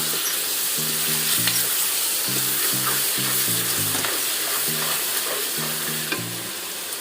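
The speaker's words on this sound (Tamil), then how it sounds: "தக்காளி நல்லா வதங்கணுங்க." Onions and tomatoes sauté and get stirred in a pot for chicken biryani, with ten tomatoes and five onions in the batch. A steady close sizzle with scraping stirs runs throughout, under a soft melodic music bed.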